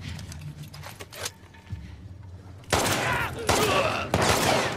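Bursts of enemy gunfire in The Last of Us Part 2 on Grounded difficulty: a few sharp shots early on, then loud, dense volleys from about the midpoint, with a faint voice nearby.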